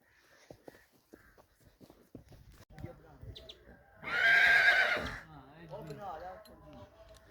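A sweating mare whinnies loudly for about a second near the middle, with hoof clatter and scattered outdoor sounds on a farm before and after; people talk around it.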